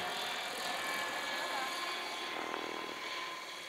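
A radio-controlled model helicopter flies fairly slowly at a model aircraft meeting in Saint-Macaire, giving a steady, even whirring drone throughout, with a commentator's voice over it.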